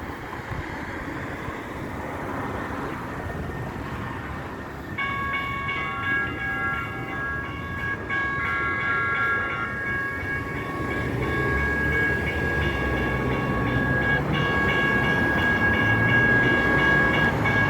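A train at a local railway station rumbles steadily throughout, with a sustained metallic screech or whine from the wheels starting partway through and growing louder as the train draws close.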